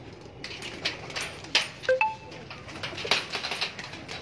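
Ferozpuri pigeons give soft, brief coos amid scattered clicks and rustling, fairly close and not loud, with no clear talk.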